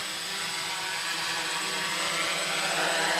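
A DIY X-frame quadcopter drone with a DJI NAZA V2 flight controller comes in to land, its propellers giving a steady, close, buzzing whir that holds and swells slightly.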